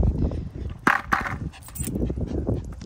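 Dogs close by make brief whimpers and soft barking sounds, with a couple of sharp clattering clicks, while people talk nearby outdoors.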